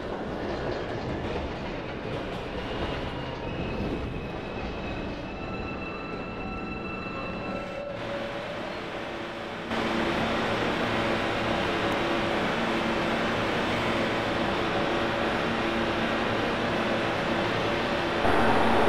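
A simulated New York City subway train in the game Trainz 12 rumbles along at a steady roar, with a sudden shift in tone partway through and a continuous, louder drone afterward, no voices.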